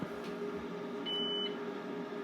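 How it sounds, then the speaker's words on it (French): A resin 3D printer gives one short, clear electronic beep as its build plate reaches the set Z position, heard over a faint steady machine hum. "La machine bip pour dire qu'elle a atteint"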